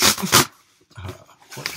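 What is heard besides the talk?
small dog shredding things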